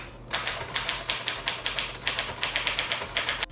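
Keys strike on a manual typewriter in a quick, steady clatter of crisp mechanical clacks, close and alone, about four strokes per second with a brief pause partway through.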